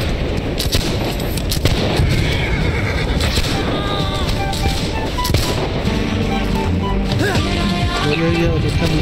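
Musket gunfire in Holdfast: Nation At War, many loud scattered shots cracking through a chaotic battle with horses whinnying, over several seconds under talk.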